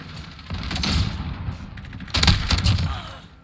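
Shotgun blasts from a 725 in Modern Warfare, several sharp loud booms in two clusters, around one and two seconds, over a noisy game background.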